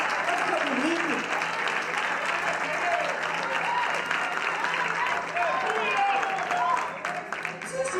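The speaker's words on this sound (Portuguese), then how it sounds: "Isso aí pode aplaudir para Jesus." A congregation applauds during a church service, sustained clapping from many people with voices and shouts rising over it, fairly close and continuous before easing off at the end.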